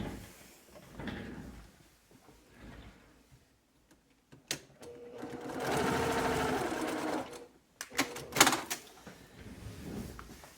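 A sewing machine stitching a quarter-inch seam on a fabric sack, with short bursts at first and then one long steady run of whirring stitches, followed by a few clicks and knocks as the fabric is handled.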